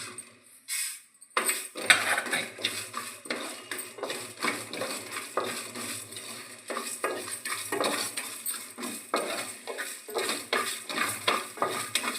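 Whole cumin, cloves, cardamom, cinnamon and fenugreek dry-roasted in a pan for a chicken pickle spice powder, with dense, continuous scraping and rattling of the spoon against metal and quick clinks throughout, close up and without talk.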